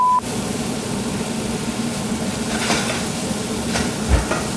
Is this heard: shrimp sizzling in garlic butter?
yes